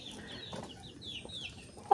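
Chickens drinking at a poultry waterer, with soft scattered clucks and chirps near and far over a low background hum, ending in one sharp knock.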